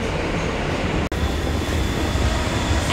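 A New York subway train rides along with a loud, continuous rumbling roar and rattle, steady throughout with one brief dropout, no voices heard.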